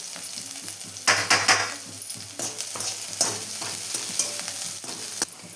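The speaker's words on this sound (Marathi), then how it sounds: "ही चांगली हलवून परतवून घ्या।" Green chillies sizzle in a little tempering oil in a kadai while being stirred, with bursts of crackling, scraping spoon strokes against the metal pan and a steady frying hiss underneath.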